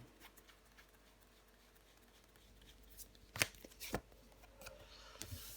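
Tarot cards are laid down and handled on a table, with faint scattered slaps and soft shuffling taps, two sharper card snaps near the middle, all quiet and close.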